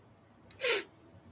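A single quick sneeze, close and fairly loud, preceded by a tiny sharp intake and followed by quiet.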